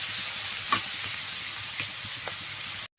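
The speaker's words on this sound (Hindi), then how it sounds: "फ्राई करेंगे।" Spice masala with powdered coriander seed fries in a pan, a steady close sizzle broken by a few light stirring scrapes, then cutting off abruptly.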